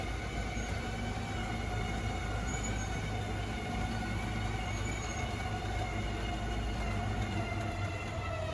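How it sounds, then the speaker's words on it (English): The slide-out motor of a 2020 Sunseeker 3050 RV runs as the room extends, a steady, loud mechanical drone and hum held constant and close without pause. "The way that works is you just hit that button out. Slide out's going to start making its way out."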